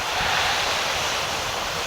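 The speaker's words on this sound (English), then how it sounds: "this might be hard to hear me because there is a lot of wind here" Strong wind buffets the microphone at a lakeside lookout, a steady loud rushing roar with no breaks and no speech.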